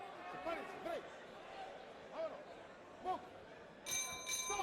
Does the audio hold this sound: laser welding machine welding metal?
no